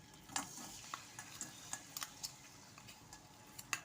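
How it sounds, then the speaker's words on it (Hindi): Jaggery syrup being stirred in a pan for churma laddu, with soft scattered ticks and scrapes of the spoon over a faint bubbling hiss, quiet and close. "अब हम लड्डू बनाने के लिए गुड़ की चाशनी बना लेंगे"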